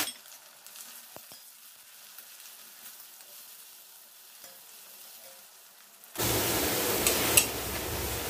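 Chopped onions dropped into hot white oil in a pan: after a long stretch of near-quiet with faint clinks, a loud, bright, dense sizzle bursts in and continues steadily up close.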